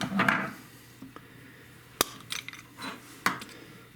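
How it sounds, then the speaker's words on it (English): A screwdriver pries at the plastic catch of an Audi key fob, producing a few sharp, close clicks and small plastic snaps amid quiet handling noises. "put your screwdriver in, kind of at an angle, like that, and just pop that catch up"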